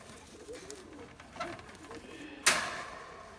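An Erzurum white pigeon coos softly a few times nearby, followed by a brief sharp rustle or flap near the end, with no voices.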